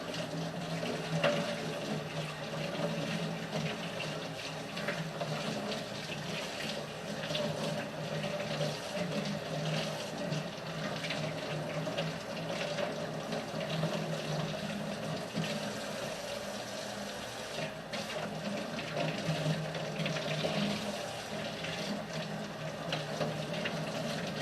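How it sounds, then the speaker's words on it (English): Tap water runs steadily into a kitchen sink as a cleaned rainbow trout is rinsed, a continuous, fairly faint splashing hiss with no pauses. "you're going to want to take it over to the sink and rinse it out really good"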